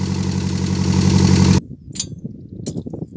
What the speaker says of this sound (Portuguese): ainda não chegou nem ligar a ventoinha, então ela tá falhando um pouco, ó.